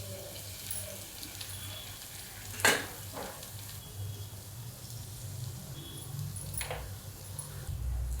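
Eggs for egg bhurji frying and being stirred in a pan with coriander, a steady sizzle under occasional scrapes of a spatula and one sharper clank, close and moderately loud, no talking.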